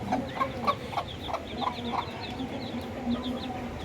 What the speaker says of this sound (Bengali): মুরগিটা কিন্তু অনেক ভয় পাচ্ছে, যেহেতু বাচ্চা আছে।